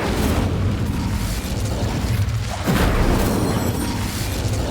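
The Incendio fire spell cast in Hogwarts Legacy, a loud rushing, crackling burst that swells over a steady low rumble and holds for several seconds.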